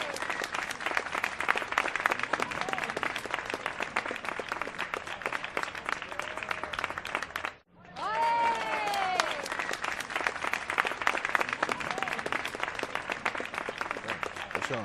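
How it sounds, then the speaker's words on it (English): Sustained applause from a large wrestling event crowd rolls on with dense clapping, briefly cutting out midway before resuming, while a voice speaks over the middle stretch. "Round of applause for Evolution."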